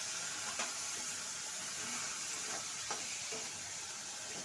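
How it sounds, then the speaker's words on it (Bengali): Poppy seed paste being stirred into a Bengali chutney of bilati amra (hog plum), giving a steady soft sizzle with faint scraping strokes and a few brief clinks, close and continuous with no talking. "এখন আমি পোস্তটা দিয়ে একটু নাড়াচাড়া করে মিশিয়ে নিচ্ছি।"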